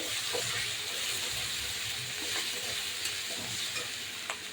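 Chili and cumin paste, added after garlic paste, fries in a pan for a fish curry. It makes a continuous close sizzle with soft scraping stirs and a few small clicks, no talking.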